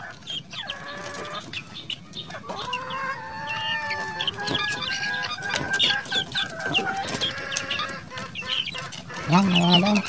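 Black Australorp chickens crossbred with Rhode Island Reds cluck and crow loudly and close by, many birds calling over one another in a steady, overlapping chorus that runs throughout.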